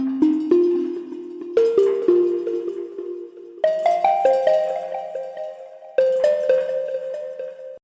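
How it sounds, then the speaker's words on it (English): Synthesized microtonal gamelan-style pluck notes, bright metallic tones struck one after another in a slow melodic sequence, each ringing out and decaying before the next, clear and alone. "how to create a microtonal gamelan pluck sound"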